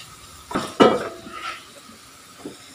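Pork frying in a pan, with a couple of sharp metal scrapes and clinks from stirring over a faint background sizzle.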